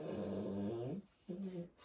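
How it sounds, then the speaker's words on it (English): A small puppy growls and whimpers up close, a sustained low rumbling growl broken by a brief pause before a shorter second growl. "that's a little baby doggy."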